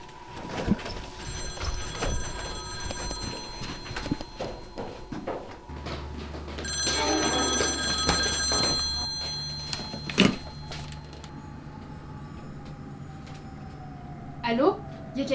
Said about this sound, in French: C'est quoi ça? C'est un téléphone?